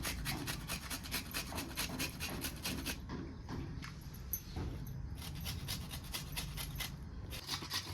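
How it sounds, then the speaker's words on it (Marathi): Fresh wet coconut is grated on a hand grater in quick, steady rasping strokes, close up and continuous with a brief pause midway and no talk. "एकदम ओला नारळ त्याच्यामुळे जर किसण्यासाठी थोडा ताप होते तर सावकाश मी किसून घेते"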